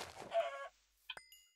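A chicken in the Minecraft video game gives a short, close cluck, followed by a quick hollow knock and a faint ringing tone, with quiet surroundings and no talking.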